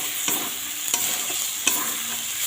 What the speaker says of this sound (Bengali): ভাজা পটলগুলো দিয়ে দিলাম।